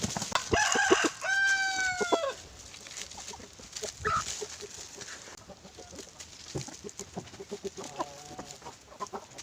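Hens cluck close by while a rooster crows loudly near the start, followed by scattered clucks and soft farmyard chatter.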